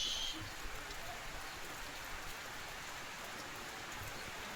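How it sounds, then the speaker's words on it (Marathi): Rain falls steadily outdoors, a soft, even hiss of drops that stays faint and continuous throughout with no talking. "पाऊस येतोय पाऊस"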